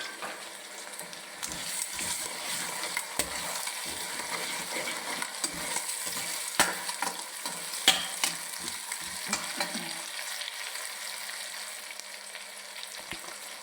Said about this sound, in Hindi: अब इसके अंदर हम ये टमाटर डाल देंगे और साथ ही ये मिर्चें डाल देंगे